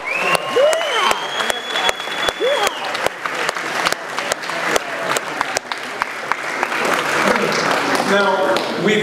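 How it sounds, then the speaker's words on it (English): Audience applause at an awards speech for an Atlantic rowing team, lively crowd clapping with sharp individual claps, whistles and voices calling out over it, continuing for several seconds. "I'd like a round of applause for the people at RHM."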